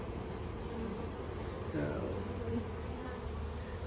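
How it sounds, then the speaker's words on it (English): Honey bees swarm at the entrance of a strong hive, a continuous close buzzing drone with individual bees whining past; a voice briefly speaks. "I just thought I'd show you that bee activity."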